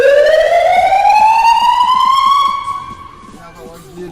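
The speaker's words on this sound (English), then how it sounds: "We have siren." A loud wailing fire truck siren rises steadily in pitch, then fades out, leaving quieter background noise.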